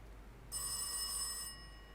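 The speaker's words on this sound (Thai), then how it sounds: "เสียงโทรศัพท์อีกแล้วอ" Telephone ringing in the horror video game Rise of Insanity: a single bright, electronic-sounding ring lasting about a second, heard clearly over a quiet low hum.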